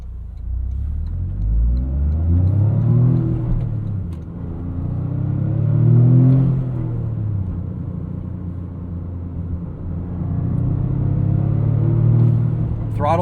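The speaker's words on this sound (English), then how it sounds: "I just like making turbo noises. Also, love the sound of this 3-cylinder" A 2025 Toyota GR Corolla's turbocharged three-cylinder engine, a 300 hp hot hatch with a six-speed manual, pulls through several rising revs with falling gearshift dips, a steady in-cabin drone heard from close by.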